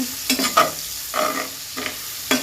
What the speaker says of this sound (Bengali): পেঁয়াজটা আমি দিয়ে দিলাম।